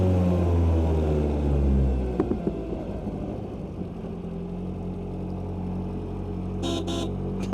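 A BAC Mono's horn gives a few short toots near the end, over a steady engine rumble from close by, driving in the rain.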